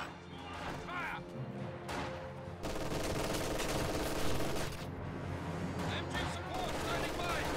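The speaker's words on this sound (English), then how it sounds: "He has pushed the Soviets all the way back into the base with these machine guns." Rapid machine gun bursts and battle explosions in a WWII strategy video game, dense and continuous, with a brief lull near the start, while a commentator talks over the gunfire throughout.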